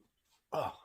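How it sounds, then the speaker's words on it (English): A single short, loud burp from a man, a brief low rumbling belch standing alone after near silence. "getting the burps"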